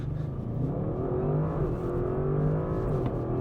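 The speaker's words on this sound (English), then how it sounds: "Gonna give this RS6 a launch" An Audi RS6 Performance holds a steady, loud engine drone on launch control, revs rising gradually and continuously in the cabin, with no voices.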